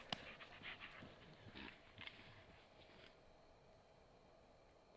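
A dog pants in quick, soft, rhythmic breaths close by on the ice during ice fishing in Finland, the panting fading out after a few seconds into quiet.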